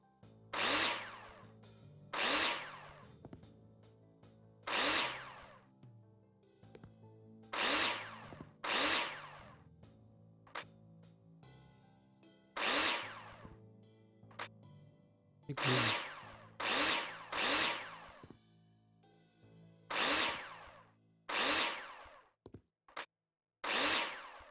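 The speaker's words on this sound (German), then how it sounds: "Schrauben wir fest alles hier." Power-driver bursts from Builder Simulator as parts get screwed tight: about a dozen short, loud whirring pulses, each a second or two, repeating at irregular intervals over a low steady background hum.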